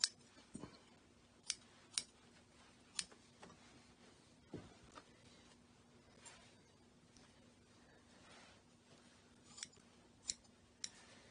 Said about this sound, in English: I'm going to cut that excess fabric away.